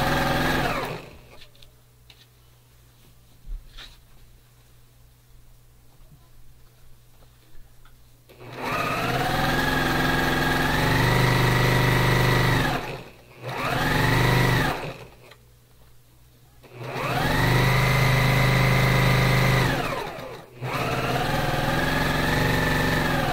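Sewing machine stitching fabric in several bursts of rapid, even whirring, separated by short pauses and quieter handling between runs.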